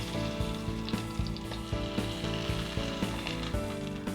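Pork chops with their fat edges turned down, searing in a hot pan, give a steady sizzle and crackle with regular scraping or clacking beats throughout, fairly close and with no talking.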